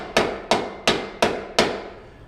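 Hammer tapping wooden wedges under subfloor stumps: five sharp, evenly spaced knocks, close and clear, each ringing off briefly with no talking.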